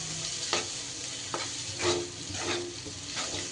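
Crushed peanuts being stirred into pointed gourd frying in a pan, a steady sizzle broken by several distinct scraping stirs of a spatula at irregular intervals, close and clear with no talking.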